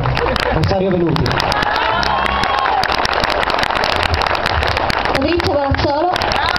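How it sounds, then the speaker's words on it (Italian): An audience at an outdoor event in Rometta applauds loudly and continuously, with a dense crackle of clapping mixed with crowd noise and voices underneath. "Applausi."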